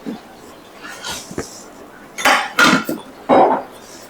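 A knife scrapes around the edge of a pan of steamed dhokla, followed by clattering knocks as the pan is tipped and the dhokla turned out, with a few loud bursts of metal contact near the end.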